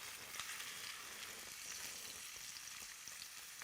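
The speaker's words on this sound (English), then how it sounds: "while our onions and garlic are cooking up" Chopped onions and garlic sizzle in a pan with a bright, steady, close crackle and a few soft stirring taps, no voices present.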